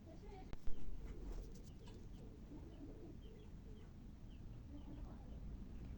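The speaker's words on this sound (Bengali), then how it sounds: "কিছু কবুতর এখানে নেমেছে লবণ খেতে আর কি।" Pigeons that have landed to eat salt coo faintly in the distance, their soft murmurs mixed into steady outdoor background noise after a brief knock near the start.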